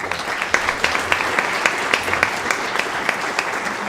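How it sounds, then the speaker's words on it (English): An audience at an Armed Forces Day event breaks into steady applause, many hands clapping at once in a dense, even wash with sharper individual claps standing out throughout, with no talk over it. "I think she deserves a special round of applause"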